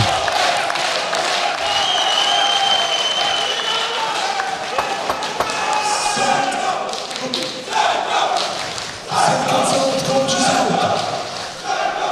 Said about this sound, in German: Jetzt geht das Publikum natürlich mit und feuert Andy Köchel an.